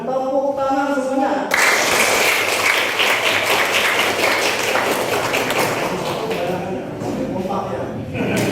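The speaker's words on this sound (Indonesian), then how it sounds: "Kita belum mengapresiasi hasil karya dengan tepuk tangan semuanya" A class claps for a student's presentation, a dense, loud burst of applause that fills the room and carries steadily for several seconds before thinning slightly near the end.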